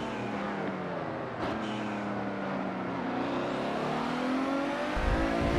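Bugatti EB110 engine in Forza Motorsport 7, a steady loud drone that climbs in pitch as the car accelerates, with a brief gear-change dip early on and a low rumble swelling at the end.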